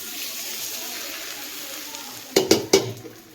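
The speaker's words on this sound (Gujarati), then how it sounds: "તો ચાલો વઘારને છે ને આપણે ઢોકળા ઉપર રેડી દઈશું એટલે મસ્ત ઢોકળા વઘારાઈ જશે." Hot tempering of mustard seeds, cumin and sesame poured over dhokla, a few sharp crackling sizzle bursts near the end after a quiet stretch.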